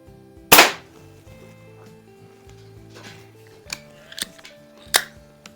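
A Hy Score model 800 pellet gun fires once with a sharp, close crack, followed by a few lighter mechanical clicks and snaps of handling and reloading, with a faint musical background.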